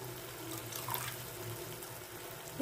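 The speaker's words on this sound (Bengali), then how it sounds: "এবার পরিমাণ মতন জল দিয়ে" Water poured into a cooking pot of potato and soybean curry, a steady, faint splashing stream running throughout with no talking.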